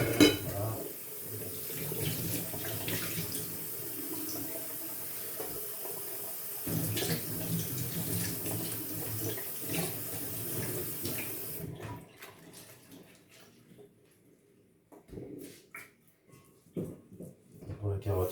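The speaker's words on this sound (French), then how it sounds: "pour laver les légumes, donc les poireaux, je vais faire passer sous un filet d'eau froide" Leeks rinsed under a thin stream of cold tap water in a kitchen sink, a steady running splash with faint clinks, which cuts off partway through, leaving quiet handling sounds.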